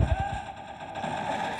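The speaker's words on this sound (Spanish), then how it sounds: "¿Quién me está disparando?" Automatic gunfire in the shooting video game War Hero: a short burst of rapid shots at the start, then a steady hum of game background.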